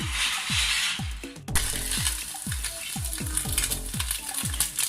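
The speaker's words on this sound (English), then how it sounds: "First మనం దీన్ని omelette లాగా వేసేసుకోవాలి." Frying eggs for an omelette in oil in a pan, part of home-made chicken chow mein, give a steady close sizzle. Repeated knocking thuds from a utensil run along underneath it, with no talk.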